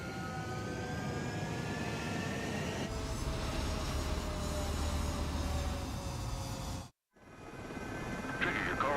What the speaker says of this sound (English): Mage 2, clear for takeoff.